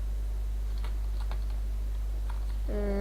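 A computer keyboard is tapped a few times, the F3 and H keys pressed while playing Minecraft, with soft isolated clicks over steady hum before a tonal sound rises at the end.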